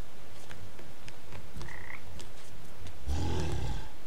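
Frog croaking in the video game Papo & Yo, a short deep burst of croaks near the end, preceded by faint clicking game sounds and a brief tone.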